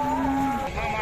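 Bulls mooing at a cattle market, Devni and Lal Kandhari breeds, one long loud low-pitched moo with a rising tone, heard close and alone over a steady crowd murmur.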